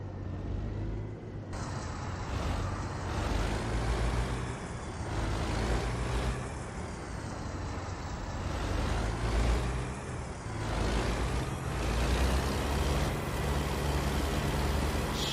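A heavy truck in American Truck Simulator: a deep, continuous diesel rumble that swells and eases as it is driven, with hissing air-brake releases mixed in throughout.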